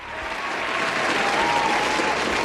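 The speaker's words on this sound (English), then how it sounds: "Hold for applause." Sustained applause from a crowd, swelling slightly and holding steady as a dense wash of clapping, heard alone with no voices over it.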